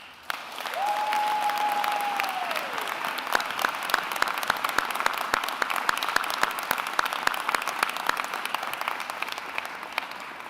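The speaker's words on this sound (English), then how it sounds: "Please give a welcoming applause for the yearbook staff." Sustained audience applause at an upper school closing ceremony welcoming the yearbook staff, steady dense clapping with a few sharper individual claps, and a brief whistle-like tone near the start.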